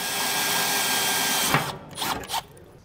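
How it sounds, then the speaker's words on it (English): A power drill bores holes for mounting a Jif Marine underdeck pontoon ladder, a steady close whine for about a second and a half, then stops, followed by a few brief clunks and scrapes, no talk. "Once you get your holes drilled"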